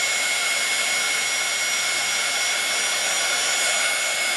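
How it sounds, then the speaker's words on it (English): A heat gun blows hot air steadily over embossing powder on a stamped card, a constant loud whooshing hiss with no break and no voices. "We've got to use the heat gun."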